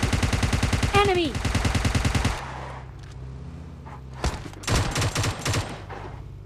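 Rapid automatic gunfire from a battle royale video game rattles in a dense, continuous burst for two seconds, followed by scattered louder shots and a few more short bursts over quieter game ambience.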